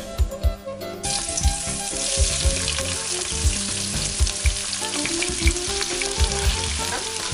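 Vegetables sizzle steadily in a sauté pan with a special spice rub, a loud continuous frying hiss that surges after a second, with low thumps and clatter of stirring throughout; no one speaks.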